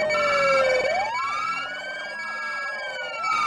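New police car siren from the City of Tampa RP driving game, a loud wailing tone sweeping down and up in long cycles, then shifting into a faster yelp pattern while a vehicle drives a highway.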